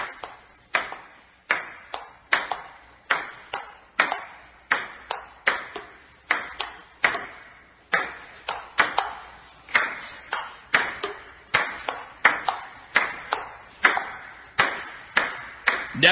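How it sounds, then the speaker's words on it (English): A ping pong ball is hit back and forth in a live championship match, giving a long, steady train of sharp, crisp clicks at a brisk, even pace, with a faint hiss underneath. "they're going to have live ping pong championships on the air"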